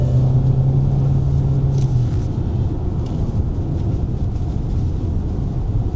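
A large SUV cruises around a test track, its engine and tyre roar forming a steady, loud drone with a low hum, no voices over it.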